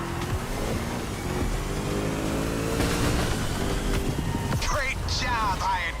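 A car engine in The Crew Motorfest video game hums and climbs through rising revs, steady and fairly close, with a voice speaking briefly toward the end.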